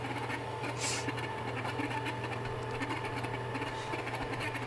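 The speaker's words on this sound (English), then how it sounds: "because I can just barely hear you, Paul, over the mixer." A kitchen stand mixer kneads soft pretzel dough, its motor giving a steady, unbroken whirring drone with faint scraping texture that runs the whole time at moderate loudness.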